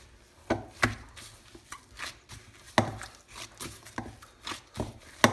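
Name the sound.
kneading dough by hand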